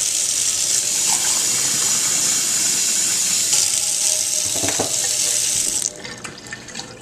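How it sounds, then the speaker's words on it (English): Hot water gushing hard from a tap into a sink, a loud steady hiss for about six seconds before the flow drops to a quieter trickle and splash. "I'm going to fill this up with hot water, just hot water out of the tap."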